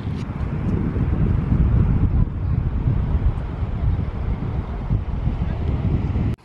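Strong, steady wind on the beach at Rømø, Denmark buffets the microphone, a continuous low roar with gusty swells throughout and no clear voices.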